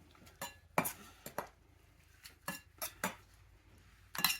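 Freshly diced tomatoes are dropped into a bowl for salsa, producing a few sharp clinks and scrapes of utensil against the bowl spread across several seconds, close and distinct in a quiet kitchen.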